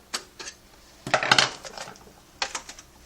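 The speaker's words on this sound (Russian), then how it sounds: "И снимаем тут на защелках лицевую панель" A plastic front panel is unclipped from the latches of a Compaq CQ1000 PC case, giving a few close, dry clicks and rattling snaps, with a busier cluster of clatter in the middle.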